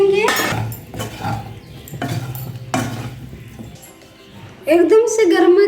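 Spicy, unpeeled small potatoes being stirred in a pan for a dry aloo sabzi, with a spoon scraping and clinking against the metal in several strokes over a faint sizzle, while a voice talks between them.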